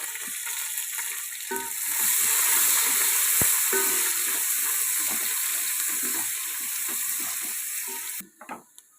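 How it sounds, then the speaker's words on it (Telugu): Sliced onions sizzle and crackle in hot oil in a pan for chicken pulao. The steady, close frying hiss swells after a couple of seconds, carries on evenly and is cut off by a few clatters at the end. "ఇలా గోల్డెన్ బ్రౌన్ వచ్చేంత వరకు కూడా మనం ఆనియన్స్ని బాగా వేయించుకోవాలి"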